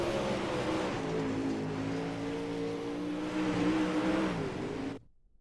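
Super late model race car howling through qualifying laps at Eldora dirt track, a loud sustained engine roar with rising and falling pitch as it runs past, cutting off abruptly near the end.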